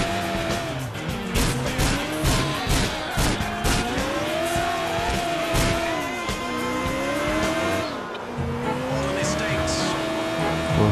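A Volkswagen car in the GTA IV video game drives hard with repeated tire squeals and revving engine sweeps, loud and continuous, while players talk over it.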